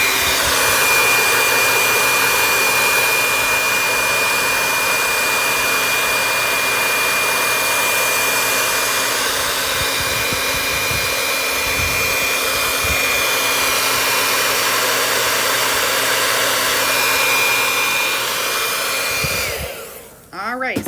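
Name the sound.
blow dryer drying a painted wooden football door sign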